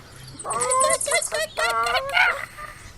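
A voice imitates a chicken, a run of squawking clucks and honking cries in quick bursts, close and loud, added as a sound effect during a recording.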